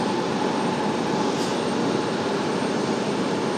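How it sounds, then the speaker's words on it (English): An Airbus A350 on approach to land at an airport, its jet engines producing a steady, loud, broadband roar that stays level throughout with no voices. "A350 looks like she's crabbing a little bit."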